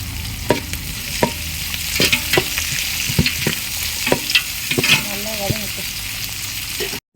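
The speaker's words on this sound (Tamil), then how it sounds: "எல்லாத்தையும் நல்லா வதக்கி விட்டுக்கலாம்." Steady frying sizzle of tomatoes sautéing in a pan for chicken curry, with repeated sharp scraping stirs of a spatula, close and fairly loud, no voices.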